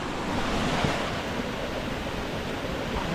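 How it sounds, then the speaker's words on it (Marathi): A small waterfall on a village stream where crabs are caught gives off a continuous, fairly loud rushing roar of falling water, unbroken throughout with no voices. "वॉटरफॉल आहे. थोडा धबधबा आहे."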